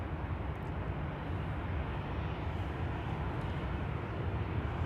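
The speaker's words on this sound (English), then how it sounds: "KLM flight 1851 to Munich, 737-700" A KLM Boeing 737-700 departs Amsterdam Schiphol Airport, a continuous deep jet roar that stays loud and steady throughout, with no one speaking.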